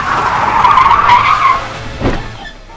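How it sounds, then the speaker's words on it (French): A car skids in a handbrake slide with a long tire squeal, loud and close, followed by a brief scrape and the engine fading. "si je relâche le frein à main, je dois pouvoir avoir plus de glisse"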